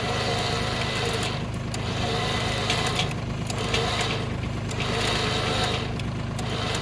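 A Kubota LX2610 tractor idles steadily nearby while its Traveller 9000 lb winch spools cable to drag boulders, a constant engine drone with faint periodic swells of whirring.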